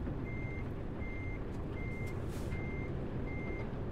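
Truck reversing alarm in Euro Truck Simulator 2, a steady series of five evenly spaced electronic beeps sounding over a constant low engine rumble.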